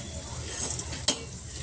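Cardamom fries in ghee for chakoli, a quiet sizzle broken by one sharp clink of a utensil against the pan.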